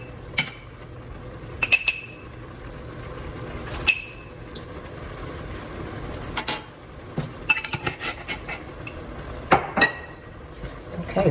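Lasagna sauce with parsley and oregano being stirred in a pan, with intermittent scraping and clinks of a utensil against the metal over a low, steady background sizzle, close and moderately quiet, no talking.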